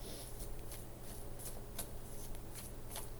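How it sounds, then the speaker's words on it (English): A deck of tarot cards being cut and handled, steady close papery rustling with a series of crisp card snaps spaced through it, quiet and unaccompanied by speech. "so cutting the cards"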